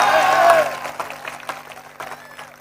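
Audience applause at a Hindi comic poetry show, a burst of clapping and cheering that is loudest at the start and then thins into scattered claps as it fades.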